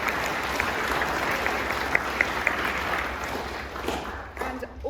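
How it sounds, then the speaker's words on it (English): Applause at a school celebration assembly: a large audience claps steadily for several seconds at an even level, then the clapping thins and fades out near the end. "So come on, a big clap for those, please."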